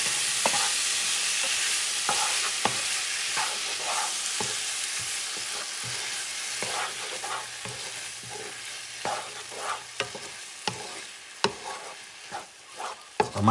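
Octopus rice for a Spanish arroz con pulpo is stirred in a hot pan, a continuous sizzle broken by repeated scraping and clacking strokes of the spoon, close and fairly loud, with no voices.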